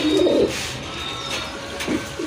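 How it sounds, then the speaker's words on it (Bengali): At a pigeon market, a pair of fancy Archangel pigeons coo in soft, throaty bursts, one near the start and another toward the end, over low background ambience. "এক জোড়া আর্চ এঞ্জেল কবুতর ফ্যান্সি কবুতর"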